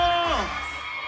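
Crowd shouting and cheering at a live concert in Kanasín, a brief loud burst with a falling whoop that fades into steady crowd noise.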